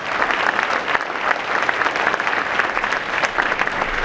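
A large audience claps steadily for a speaker at a community panel discussion on healing, dense sustained applause filling the room from start to finish at a fairly loud, even level.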